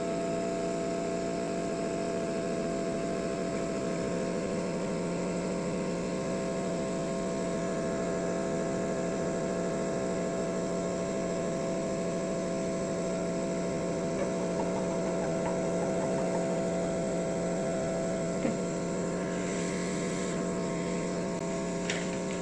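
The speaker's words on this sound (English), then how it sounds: "you will use the hot air gun to help" A steady, droning hum of a hot air gun's blowing air and motor runs unbroken throughout, fairly loud and close, with no voices.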